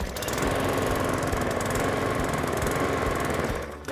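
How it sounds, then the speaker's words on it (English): A Cobra M40SPB petrol lawn mower engine runs loud and steady after a recoil start, a continuous close rumble with rapid firing pulses and no speech. "Once we've primed it, we pull back the engine brake, we're going to pull the recoil."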